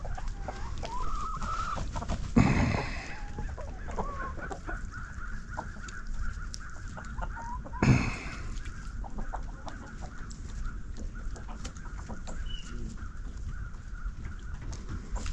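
Chickens cluck and squawk on and off in the near distance, with a couple of louder bumps and rustles in between.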